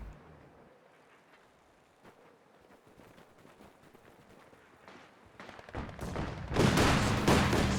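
A mortar counter barrage in Company of Heroes 2 builds from scattered distant thuds and pops into a loud, dense roar of impacts over the last couple of seconds.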